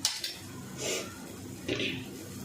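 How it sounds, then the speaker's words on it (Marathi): A spoon scrapes ground green-pea chutney out of a mixer grinder jar in two short metallic scraping strokes, close and fairly quiet. "मिक्सरच्या भांड्याला जे लागले ते सुद्धा घेते सगळं काढून"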